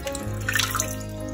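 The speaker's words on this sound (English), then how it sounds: "straighten them out and then dip them in the water" Fresh herb stems, such as oregano, rosemary, sage or thyme, dipped into a bowl of water in a kitchen, giving a brief close splashing and dripping sound with no talking.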